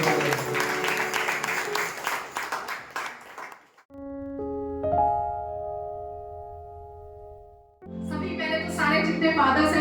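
A church congregation at a Sunday service claps and applauds loudly for several seconds, then ringing tones sound before the clapping and noise return.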